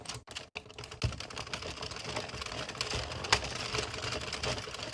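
An Addi or Sentro 22-pin knitting machine knitting rows of red yarn, heard as a quiet, close, steady run of rapid clicking and clattering with no talking.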